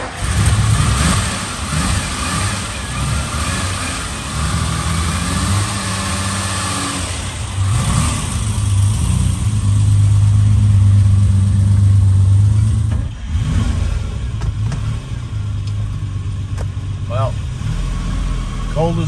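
A 1966 Ferrari 330 GT 2+2 Series II engine started cold and left idling, a steady loud mechanical rumble with some rising revs, heard close up with voices over it.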